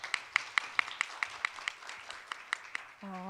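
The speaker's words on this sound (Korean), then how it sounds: "큰 박수로 맞아주시기 바랍니다." Conference attendees clap to welcome a speaker, sharp, fairly faint claps landing at a quick, even pace, then a voice starts speaking just as the clapping ends.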